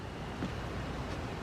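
Cold, blustery wind rushes as a steady broadband roar, close and buffeting the microphone, with no voices over it.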